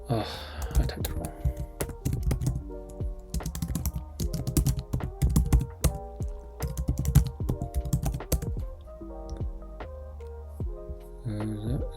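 Computer keyboard typing while working through a Linux Bash scripting exercise, a busy run of close, crisp keystrokes with brief pauses, carrying on steadily over twelve seconds under occasional speech.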